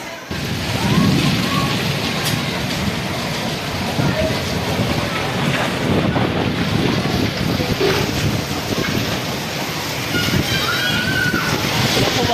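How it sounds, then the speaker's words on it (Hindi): Heavy stormy rain and strong gusting wind in Pakistan, a loud continuous roar of water and wind buffeting the microphone, with faint voices underneath. "हवा भी साथ में बहुत ज़्यादा तेज़ हवा चल रही है"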